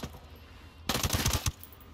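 Rapid burst of Vector shorty submachine gunfire in the game Ghost Recon Breakpoint, about half a second of close, loud automatic shots standing alone.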